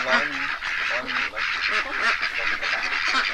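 Yi Liang ducks on a small farm of about 150 birds give a dense chorus of nasal quacks and honks, loud and close, running continuously for a few seconds.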